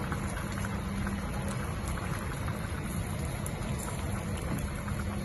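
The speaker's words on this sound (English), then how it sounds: "Now once it come back to boil, leave it here for 3 minutes for all the taste to come out into the soup." Spicy sour shark meat soup boiling in a pot, a steady dense bubbling and fizzing that stays constant throughout without a break.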